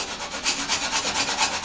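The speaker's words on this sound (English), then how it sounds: "take a little bit of sandpaper and just scuff it" Sandpaper scuffs an RC plane part in quick, even back-and-forth strokes, a close raspy rubbing that pulses rhythmically about four times a second with nothing else heard.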